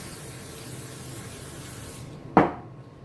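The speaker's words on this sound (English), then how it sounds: "And then I'm going to use my spray and spray the top." A single sharp hiss of cooking spray onto bread dough bursts out near the end, loud and close, after a few seconds of quiet background.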